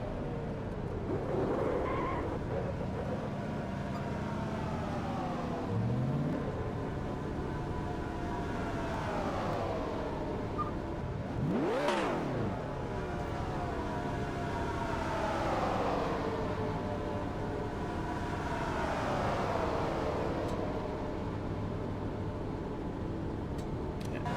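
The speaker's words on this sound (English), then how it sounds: "I can barely hear you over the engine roar." Racing video game car engines roar continuously, with repeated rising and falling revving sweeps and a loud pass-by whoosh near the middle, steady and close throughout.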